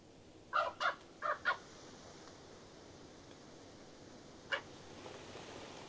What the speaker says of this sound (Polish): Kruki korzystają jeszcze z ostatniej szansy na posiłek.